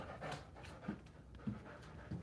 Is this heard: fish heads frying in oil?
no